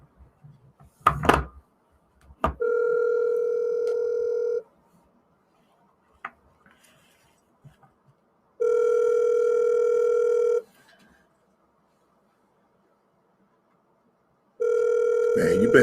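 A telephone rings in three long electronic bursts of steady tone separated by pauses, following a few knocks and clatters at the start; loud and close.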